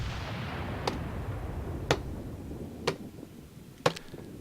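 Naval guns fire at the cruiser Svetlana in World of Warships, four distant booming shots roughly a second apart over a steady background rumble.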